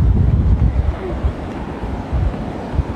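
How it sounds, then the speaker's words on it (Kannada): Strong wind buffets the microphone at a beach, loud low rumbling gusts rolling without a break over the surf, with no one speaking. "ಜೋರು ಗಾಳಿ ಬರ್ತಾ ಉಂಟು."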